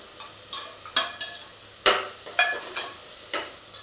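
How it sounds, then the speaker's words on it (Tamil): Ginger garlic paste frying with tomatoes in a pan, stirred with a spoon: a string of crisp scraping strokes over a soft sizzle, close and clear, with no talk. "இஞ்சி பூண்டு பேஸ்ட் போடுறேன்."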